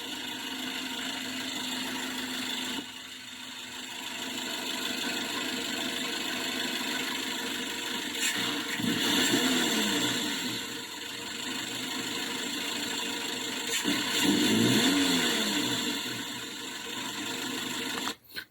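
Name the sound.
car engine idling and revving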